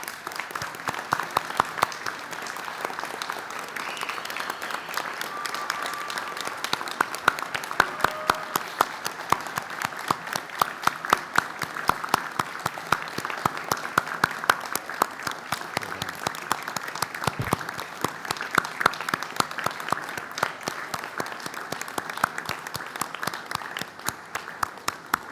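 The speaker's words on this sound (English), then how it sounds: "join me and my colleagues here in again applauding the wonderful achievement of these graduates" A large audience at a graduation ceremony applauds the graduates in steady, dense clapping that carries on without a break for about twenty-five seconds and fades slightly at the very end.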